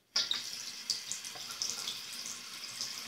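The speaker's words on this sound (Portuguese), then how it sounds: "Vamos abrir a torneira." Water gushes from a tap turned on at a sink, starting abruptly and running steadily at close range with small splashing variations.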